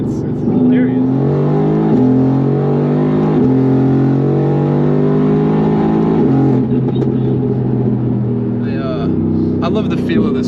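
Mercedes-AMG GT R Pro sports car pulling hard on a country road, a loud steady engine drone with rising and stepping tones through gear changes, heard from inside the cabin.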